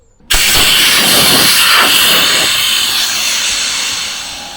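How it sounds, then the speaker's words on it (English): A Shark 3 Mini rechargeable pump deflates a SUP or kayak with a loud, steady, hissing whoosh of air that starts abruptly and runs throughout, easing slightly toward the end. "So the Shark 3 Mini just deflating at the moment."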